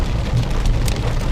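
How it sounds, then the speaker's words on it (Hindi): Hail and heavy rain pelt a car, heard from inside the cabin as a dense, continuous low rumble and patter with scattered sharper hits throughout. "आवाज़ से आप अंदाज़ा लगा सकते हैं कि ओले भी गिर रहे हैं"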